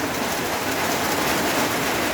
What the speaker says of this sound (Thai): ฝนตกทำงานกันกลางสายฝน